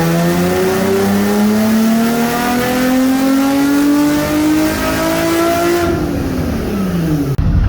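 Cammed Nissan 350Z with the DE engine on a stock intake, loud and close on a dyno, its exhaust note climbing steadily in pitch to redline over several seconds, then dropping off as the throttle closes.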